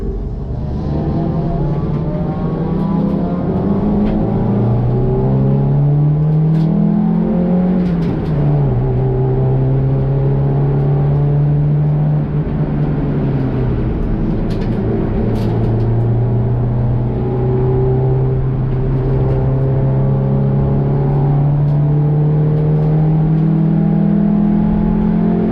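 Race car lapping a circuit in qualifying, its engine droning loud and steady from on board, revs rising and falling through gear changes without a break.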